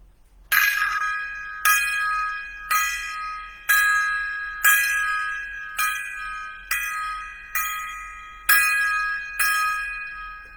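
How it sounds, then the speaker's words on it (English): A gong is struck ten times in a salute, each strike ringing bright and metallic with a decaying shimmer, evenly spaced about one second apart and loud and close with no talk over it. "a 10 gong salute at the end of the blogcast to Miss Jennifer Runyon and John Belushi"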